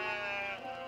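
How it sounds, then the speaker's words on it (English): A sheep gives a single loud, close bleat with a wavering tone that lasts just under a second and is heard alone. "can you do us a favor and just call up the sheep?"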